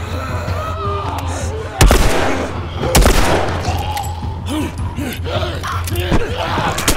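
Gunfire in The Last of Us: several sharp, loud shots crack out at irregular intervals over game ambience, while someone talks and exclaims through much of it.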